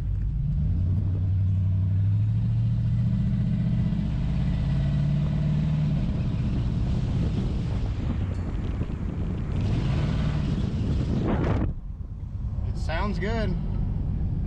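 A 5.3L V8 fitted with Cherry Bomb glasspack mufflers idles with a deep, loud rumble under wind noise, with people talking over it before it cuts off near the end.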